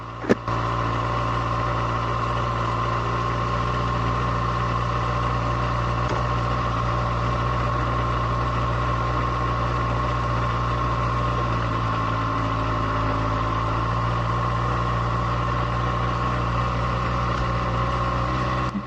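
A 2024 Kawasaki ZX6R 40th Anniversary Edition motorcycle engine runs at a steady idle, a constant close mechanical drone with a fairly even tone and no voices throughout.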